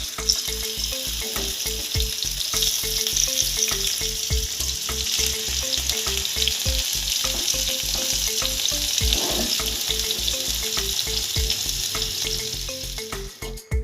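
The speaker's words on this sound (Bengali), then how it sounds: "তেল গরম হয়ে গেছে, এবার মাছগুলো দেবো," Silver carp fish frying in hot oil, a loud steady sizzle and crackle close by, joined by a rapid regular knocking pulse through most of the stretch, with no speech.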